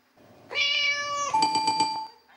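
A cat gives a drawn-out, rising meow, close and clear, with nothing else around it.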